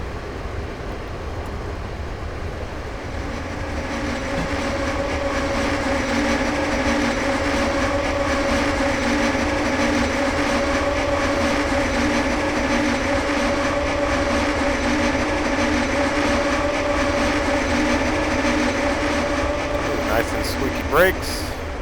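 A long freight train in the Train Simulator 2013 game rolls past at about 55 mph on the Granite to Wycon route, a steady loud rumble with clickety-clack wheel rhythm and a sustained low hum throughout.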